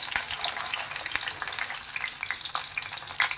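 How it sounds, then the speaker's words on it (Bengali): Hot oil sizzles and spatters continuously with a dense crackling hiss as katla fish fries in an iron wok, close by and steady, with no talking. "তেলটা গরম হয়ে গেছে বলে এবার আমি এই মাছটা তুলে দিলাম।"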